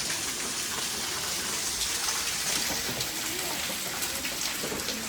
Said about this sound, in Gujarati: વરસાદ તો ફૂલ આવ્યો